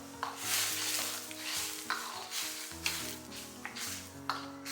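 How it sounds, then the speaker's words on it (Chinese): Diced lotus root blanching in boiling water in a wok, giving a rushing, hissing bubble broken by several sharp clinks and stirring knocks. "锅中水开，下入藕丁，给它焯水2分钟"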